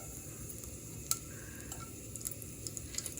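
Whole cumin, cardamom pods and cloves fry steadily in hot oil for a vegetable biryani, a continuous close sizzle with small scattered pops and crackles and no voices.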